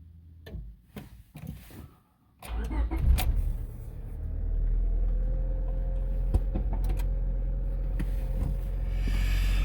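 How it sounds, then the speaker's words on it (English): A 2000 Honda Civic with a lack of power and an inconsistent idle cranks briefly after a few clicks and handling noises, then catches and settles into a steady, close, low idle that runs for several seconds. "I'm gonna go ahead and start the car."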